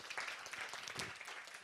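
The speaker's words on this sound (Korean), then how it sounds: "여러분 박수 한번 주세요" Congregation applause at a Thursday church worship service, a short burst of dense clapping, fairly faint and distant.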